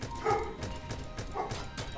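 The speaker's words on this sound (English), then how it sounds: "sorry if you hear my dog there in the background" A pet dog barks in the background during a live Starbound gaming stream, a few short distant yips and bow-wows spread across the moment.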